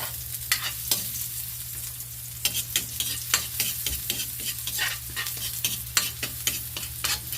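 Onion and garlic sauté in a pan with a steady low sizzle, while a utensil stirs and scrapes against the pan in irregular, sharp clicks close by.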